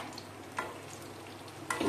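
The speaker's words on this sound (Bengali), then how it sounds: "পটলগুলো আমার হয়ে গেছে, এরকম লাল লাল করে আমি ভেজে নেব" Pointed gourd (potol) fries in a pan with a low continuous sizzle, broken by two brief louder bursts as the pieces are stirred.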